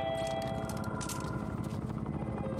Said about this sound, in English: Oh, the helicopter.